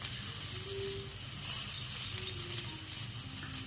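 Ginger, tamarind and banana flower sizzle steadily in a pan for banana flower chutney, a continuous close frying hiss with faint stirring beneath and no talk.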